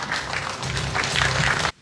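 A crowd at a Korean memorial ceremony claps in welcome, a short burst of dense, steady applause that stops abruptly.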